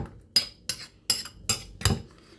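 Food being stirred in a bowl with a metal utensil: five sharp, evenly spaced clinks and scrapes of metal against the dish, close and clear, with no talking.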